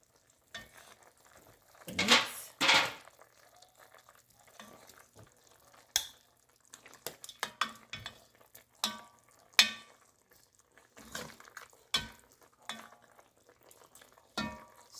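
Pieces of spiced goat head meat are lifted out of a cooking pot with a utensil, sharp scattered clinks and scrapes against the metal over a faint simmer, with a louder clatter early on.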